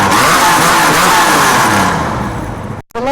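TVR Tuscan sports car at a modified car club meet, revving loudly with a rough, crackling exhaust for about three seconds, then cutting off abruptly before a brief sharp pop as it restarts.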